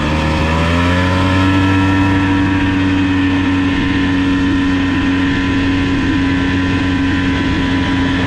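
A rare Polaris three-wheeler's engine runs steadily and loudly close by, holding an even droning pitch with a slight shift in the first seconds, no talking over it.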